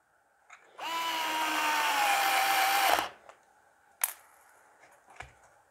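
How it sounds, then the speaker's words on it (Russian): A Bosch GO 2 electric screwdriver drives a 4x16 screw through a furniture hinge into 16 mm chipboard, one steady whirring run of about two seconds that stops abruptly, followed by a few faint clicks and taps. "Прикрутим мебельную петлю к ЛДСП 16 мм."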